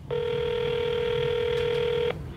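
A telephone call tone: a single steady electronic beep of about two seconds, loud and clear with no voice, heard while trying to reach an auto body shop owner by phone.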